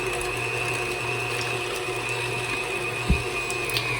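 An electric meat grinder grinding pork butt for homemade breakfast sausage: a steady, loud motor drone runs throughout, with one brief low thump partway through.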